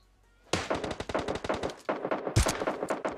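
Rapid automatic gunfire in PUBG Mobile bursts out after a short quiet, a fast string of sharp close shots with a brief pause and a heavier blast before the firing resumes.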